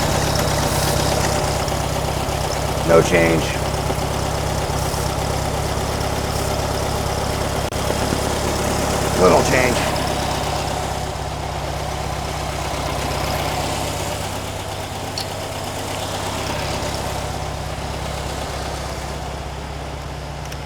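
A 1957 VW Beetle air-cooled engine idles steadily with a leaking throttle shaft, its rough, continuous drone briefly swelling twice as the idle rises, while a voice speaks quietly over it.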